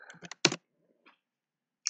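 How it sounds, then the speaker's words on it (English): Typing on a computer keyboard during a competitive programming session: a few quick clustered keystrokes, then a pause, a faint tap and another keystroke, close and clear with no talk. "This typing is getting me down."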